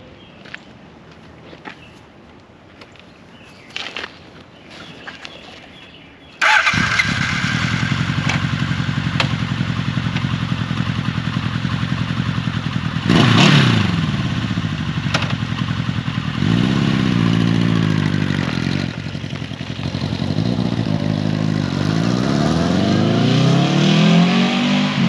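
A 1979 Honda CB750K motorcycle is heard first with faint clatter and footsteps, then its engine fires up and runs loud and steady, rising and falling as it is ridden close to the microphone.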